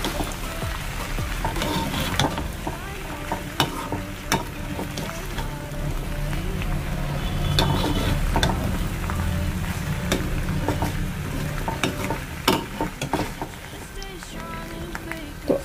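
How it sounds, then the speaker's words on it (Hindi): Cheese pasta cooks in a pan with a constant, close sizzle and crackle, dotted with frequent clicks and scrapes of stirring throughout. "बस 2-3 मिनट के लिए अब हम इसको पकने देंगे।"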